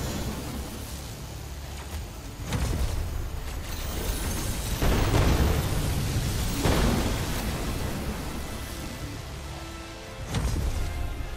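Pack rifle firing in ARK Survival Ascended, mixed with heavy explosions: a series of loud booming blasts and bursts spaced a few seconds apart over a continuous rumbling din.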